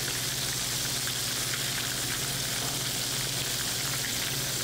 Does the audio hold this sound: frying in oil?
yes